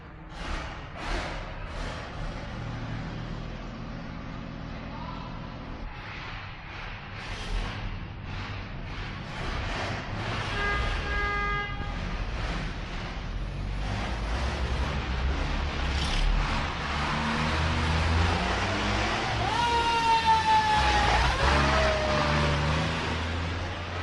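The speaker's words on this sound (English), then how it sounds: "those fire engines are going to start up and go roaring out of the station" Fire engines start up and roar out of the station, engines rumbling and building as they pull away, with rising siren-like wails toward the end, heard from a short distance.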